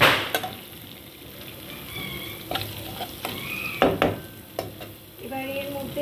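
Asafoetida sizzles in hot oil in a pan for an aloo palak dish, a low steady fry under intermittent spoon scrapes and clinks as it is stirred.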